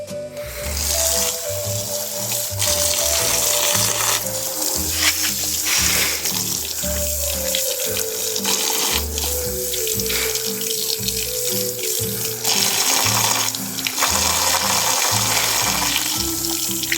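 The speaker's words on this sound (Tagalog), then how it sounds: "Tapos lagyan natin ng konting tubig dito sa gripo" Water runs from a tap into a sink or container while coconut and rice-bran feed for a native pig is being mixed, a steady splashing stream with shifting pitch and clattering, close and fairly loud.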